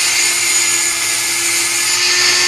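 A power tool cuts through a pipe for a homemade slip harpoon tip, producing a loud, steady whine with a constant tone that holds throughout, close up and alone.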